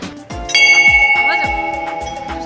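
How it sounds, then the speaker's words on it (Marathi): A Shiva temple bell rings repeatedly with bright, sustained metallic tones, struck several times in quick succession so the ringing overlaps and lingers. "नंदी महाराज घंटा वाजव, गळ्यात घंटा आहे बघ."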